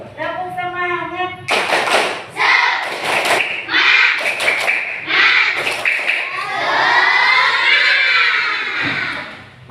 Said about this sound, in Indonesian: Sebelumnya kita tepuk semangat dulu